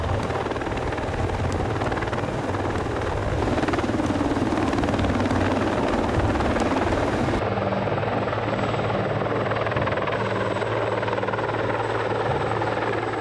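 A helicopter, such as a CH-53, carries a Palfinger Crayler FLG 140 handling machine slung from its anchor point. The rotor and engine roar stays loud and constant throughout, with a steady throbbing beat and no voices.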